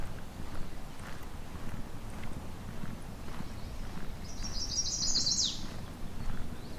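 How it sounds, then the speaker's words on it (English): A single short, buzzy mourning warbler song rings out once near the end over a steady rumble of outdoor background noise in Halton Forest. "Here we go, mourning warbler."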